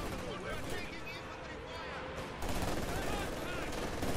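Gunfire in the World War II strategy game Company of Heroes 2, continuous bursts of machine-gun and rifle shots with battle noise, someone talking over it.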